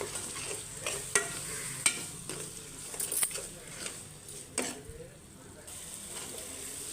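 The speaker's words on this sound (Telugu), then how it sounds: "టమాటా కూడా వేగిపోయిందండి" Tomatoes frying in oil in a pan for a fish curry, a steady sizzle under repeated scraping stirs and metallic clinks of a ladle, quieter toward the end.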